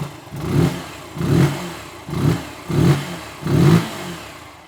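A new 125cc motorcycle engine revs in five evenly spaced bursts, each rising and falling, heard up close and loud with nothing else over it.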